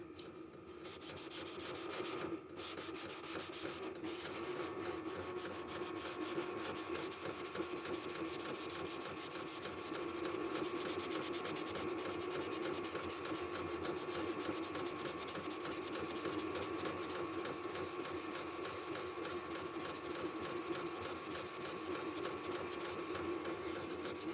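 A Scotch-Brite pad scrubs over rusty metal, a quiet, steady scratchy rubbing that carries on for more than twenty seconds with no speech.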